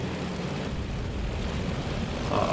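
Dive bombers in a naval carrier-battle strategy game, US aircraft diving on the Japanese carrier Shokaku, give a steady, loud, broadband engine roar that holds throughout and swells slightly near the end.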